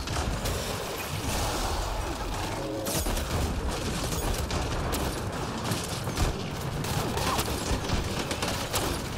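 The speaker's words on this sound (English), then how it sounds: "So we just spam some of this flank cannon." Flank cannon firing during combat in Mass Effect Andromeda, a dense, continuous barrage of rapid cracking shots and impacts that stays loud and busy throughout, with no clear talking over it.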